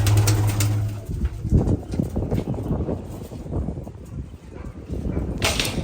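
Pigeons in a village loft coo in low, repeated murmurs with some fluttering and scuffling nearby, the calls fairly close and continuous over a rural background.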